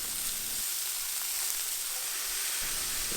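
Mushrooms frying in a pan, spread out and left undisturbed to brown, giving a steady broadband sizzle throughout with no talking.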